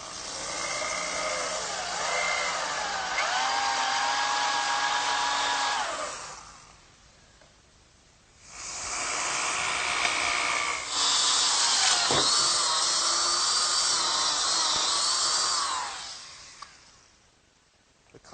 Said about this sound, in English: I'm ready to drill a hole through the 2x4 in oak for my bench screw